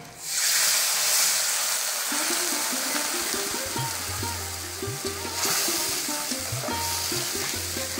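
Water hits hot oil holding grated ginger, slit green chillies, turmeric and bay leaf, bursting into a loud sizzling hiss that settles into a steady bubbling simmer with low tonal hums underneath.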